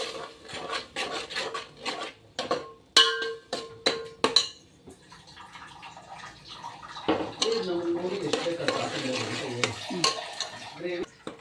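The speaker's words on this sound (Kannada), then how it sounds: "ಮಿಕ್ಸಿ ಮಾಡಿರೋ ನೀರನ್ನ ಹಾಕಿ ನೀಟಾಗಿ ಕಲಿಸ್ಕೊತಾ ಇದ್ದಾರೆ" Rajma masala mixed with water is stirred in a pot, giving scraping, rubbing strokes that start as sharp repeated scrapes and settle into a steadier wet churning, with a voice talking over the later part.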